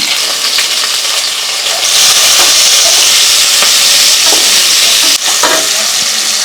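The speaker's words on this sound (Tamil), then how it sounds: "நம்ம கட் பண்ணி வச்சுக்கிற பெரிய வெங்காயத்தை சேர்த்துக்கலாங்க" Chopped onions hit hot oil in a pressure cooker, producing a loud, steady sizzle with a broad hiss and occasional stirring scrapes.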